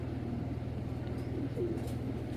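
Tournament pigeons coo in a low, continuous throaty murmur, fairly soft and close, holding steady throughout.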